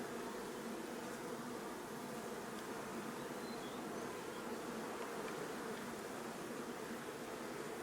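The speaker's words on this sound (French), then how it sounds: "Je viens de m'apercevoir qu'il y avait un essaim, une grappe, dans un pommier." Dense, steady buzzing of a honeybee swarm clustered in an apple tree fills the air, loud and unbroken throughout.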